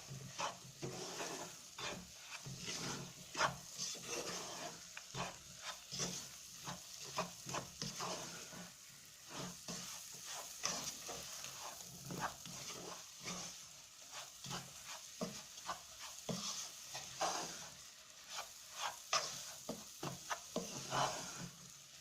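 Semolina (tasty wheat) toasting in a pan while being stirred nonstop, a quiet dry sizzle broken by repeated scraping and rasping strokes in an uneven rhythm.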